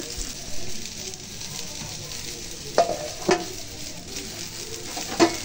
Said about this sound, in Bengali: আর এদিকে হচ্ছে যে সসেসগুলো ভেজে নিতেছি।